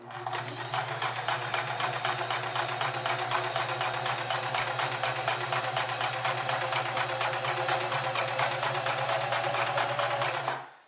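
A Sears Kenmore 158 series sewing machine runs steadily for about ten seconds, a loud close mechanical whir with a rapid ticking needle rhythm and a low motor hum, stopping at the end.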